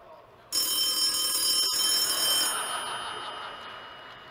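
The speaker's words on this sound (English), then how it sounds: "That is a rotary dial phone, by the way." An old rotary dial telephone bell rings loudly and steadily with a metallic jangle, then decays and trails off, played to a conference audience in a large hall.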